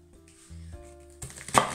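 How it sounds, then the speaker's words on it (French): A knife chops endives on a cutting board, a few quick close cuts building to a denser burst of chopping near the end, with no talking. "Je m'occupe des endives et je vais les couper"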